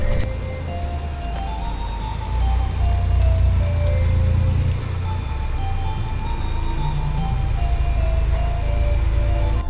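A car being moved a short distance, its engine running steadily with a low, continuous rumble throughout, fairly close and loud, with no speech.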